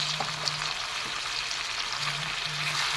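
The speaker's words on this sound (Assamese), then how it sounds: "হেতাখনেৰে এনেদৰে তলফৰ কৰি মাংসখিনি মই লৰাই" Chicken frying with turmeric, coriander and cumin powder in a pan, a low, steady sizzle with faint stirring and a soft hum running underneath; no speech.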